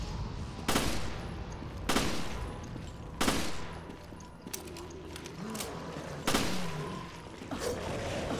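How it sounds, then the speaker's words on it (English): Burst-fire gun shooting in Resident Evil Revelations: several sharp, loud bursts come at irregular intervals of about a second or more, with a faint game-ambience bed between them. "This burst fire mod's not the greatest."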